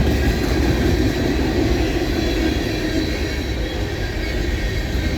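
A long freight train rolls past close by, its mix of heritage and fallen-flag cars including Santa Fe equipment producing a steady, dense rumble of wheels and cars with no break over the full length.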